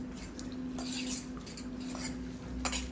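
A utensil scrapes and clinks in a bowl of pickled onions being mixed with salt, a pinch of sugar, oregano and cilantro, giving soft, irregular scraping and tapping close by.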